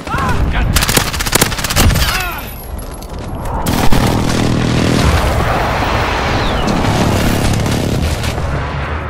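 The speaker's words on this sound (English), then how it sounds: "Enemy precision airstrike, take cover!" Precision airstrike explosions and rapid gunfire in a military shooter game: dense volleys of close, loud shots and automatic bursts, then a sustained roar of blasts and rumbling debris that continues to the end.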